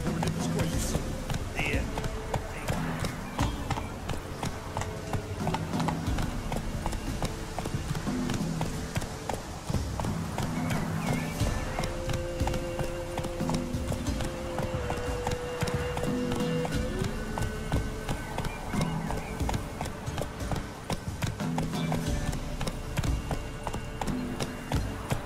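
Roach the horse in The Witcher 3: Wild Hunt gallops with a fast, steady clip-clop of hooves throughout, loud and continuous, under game voices talking.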